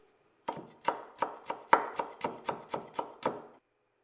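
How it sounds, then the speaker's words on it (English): A knife chops kaffir lime leaves finely on a board in about ten crisp, evenly spaced strikes, close and clear with nothing else heard. "You will need to chop the kaffir lime leaves very finely"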